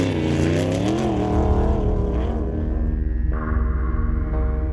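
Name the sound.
off-road race car at speed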